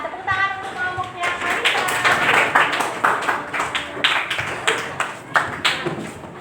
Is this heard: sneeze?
no